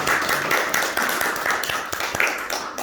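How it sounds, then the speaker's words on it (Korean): Clapping from a church congregation after prayer at a Bible study gathering, a group of hands clapping close by in loose, slightly rhythmic bursts with a few sharper individual claps. "하나님께 영광의 박수 올려드리겠습니다."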